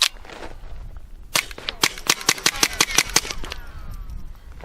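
Suppressed .22 rounds of Federal ammunition fired through a Banish 22 suppressor, a rapid string of about ten sharp, dry cracks at an even pace, close and fairly loud, with quieter shots before.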